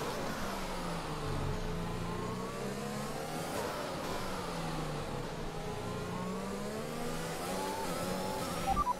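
F1 race car engines howl at Silverstone in F1 2021, rising and falling through gear changes in a continuous high-pitched whine, steady and prominent with no talking.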